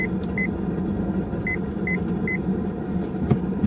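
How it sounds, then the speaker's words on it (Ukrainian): A camera gives short electronic beeps, one early and then three more spaced about half a second apart, over the constant hum of a road vehicle interior. "Там камушок лежить і вже камера пікає"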